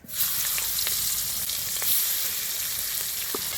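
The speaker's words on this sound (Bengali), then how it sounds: "তেলে ঝালের জন্য প্রথমে গোটা মাছগুলো ভেজে নিই সুন্দর করে।" Whole rupchanda fish frying in hot oil in a kadai, a loud, steady close-up sizzle with occasional small pops and crackles.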